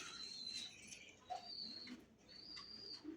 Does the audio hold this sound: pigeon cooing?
yes